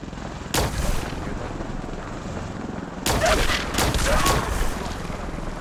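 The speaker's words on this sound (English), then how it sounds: "Ooh, I like my new sniper barrel on this plasma sniper rifle." Plasma sniper rifle shots in Fallout 4, two loud, sharp discharges a few seconds apart, each followed by a rolling tail over steady game ambience.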